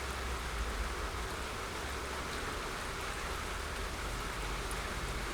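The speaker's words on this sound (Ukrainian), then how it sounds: "дощака лупить" Heavy downpour drums steadily on the surface during a rainy carp-fishing session, a dense, unbroken hiss of rain with no voices.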